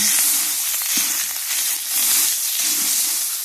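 Thai curry paste frying in hot oil gives a close, continuous sizzle with bright hissing that swells and dips slightly as it cooks.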